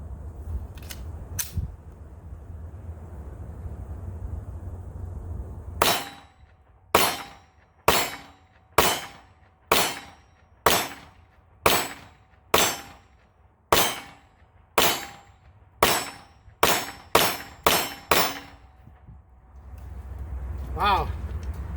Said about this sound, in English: These are going to be the first shots.